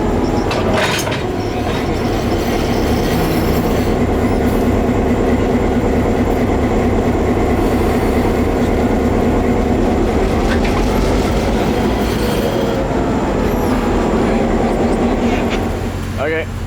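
CF7 204 locomotive running, a loud, continuous rumble with rail clatter and occasional wheel squeal lasting the whole stretch, with a voice talking over it.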